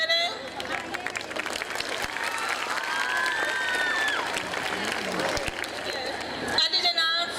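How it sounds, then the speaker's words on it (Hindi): An audience at an Urdu cultural fair claps to welcome guests from an education society, steady applause from a crowd with voices and some whoops over it, moderately loud and continuous. "ज़ोरदार तालियां बनाइए"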